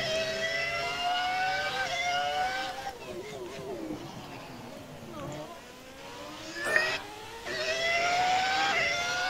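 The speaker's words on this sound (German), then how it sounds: "Das klang aber wie Oberlix beim Saufen. Der Motor, ja, stimmt." Historic Formula 1 car engines in the video game F1 2018 whine and rev continuously, pitch rising and falling through gear shifts, with a brief sharp knock in the middle.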